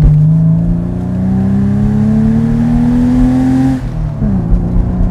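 Close, loud revving of a car's original, unmodified engine fitted with a silenced exhaust manifold: a rising whine that climbs steadily for several seconds, then drops sharply as the throttle closes, leaving a rougher, burbling idle.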